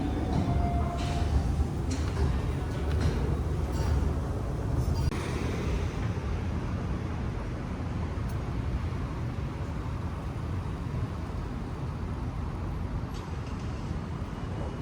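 A Toronto subway train gives a continuous loud rumble on the rails, with some brief higher clatters early on, and keeps a steady low roar throughout without speech.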